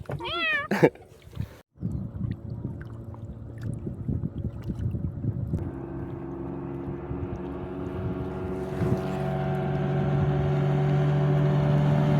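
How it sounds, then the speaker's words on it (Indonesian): A kitten mews several times in a quick rising series near the start, close and clear, then gives way to a steady low engine drone and water noise from a sea-kayaking trip in Raja Ampat. "Bayi kucing."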